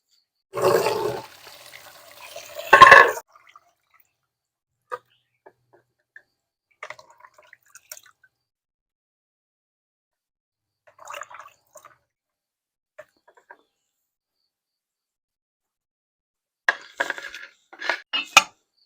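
Pork belly being washed in water: a couple of close splashing gushes at the start, then scattered drips and faint clinks in near silence, and a final flurry of splashes at the end, with no voices.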